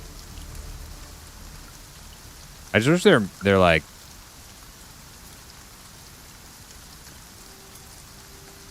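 Steady rain falls throughout a Camelot Unchained game scene, a soft even hiss that carries on under a brief stretch of speech in the middle.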